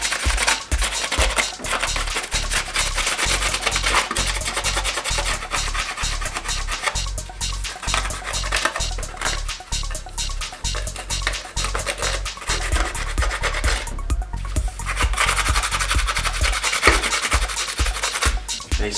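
Sponge scrubbing the mating surface of a 2.0T Audi/VW valve cover wet with degreaser, heard as rapid repeated rasping strokes in an uneven rhythm, close and continuous.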